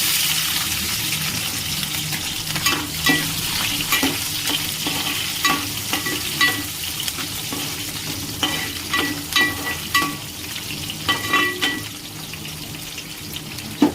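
Onions and green chillies fry loudly in a pan, a continuous close sizzle with frequent irregular spatula scrapes and clicks running throughout.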